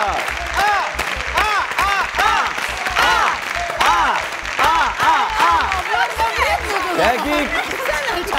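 A television quiz show audience claps and cheers after a sung performance, with a host's voice talking loudly over the sustained applause.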